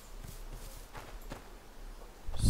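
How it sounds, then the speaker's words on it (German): Horses shifting and stepping in a stable in the video game A Plague Tale: Innocence, soft scattered hoof clops at low volume over ambient background, rising to a louder thump at the end. "Die Pferde sind noch drin."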